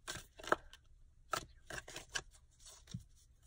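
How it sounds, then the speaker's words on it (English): Tarot cards are shuffled in quick, soft riffles and slaps, a series of brief papery bursts up close in a quiet room. "Just gonna give these cards a quick shuffle."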